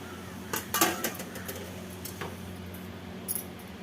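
A spoon scrapes and clinks against a metal cooking pan while boiled, peeled and cut potatoes are stirred with a little water, giving a few sharp metallic knocks over a low steady background.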